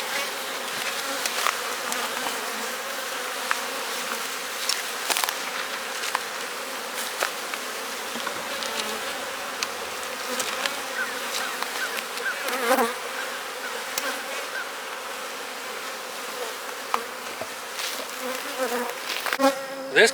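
Honey bee colony humming steadily at an open hive, a dense, continuous drone with individual bees zipping close by now and then.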